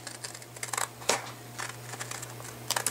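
Scissors snip through a freezer paper template for a quilt, several short, crisp cuts close up in a quiet room with uneven pauses between them.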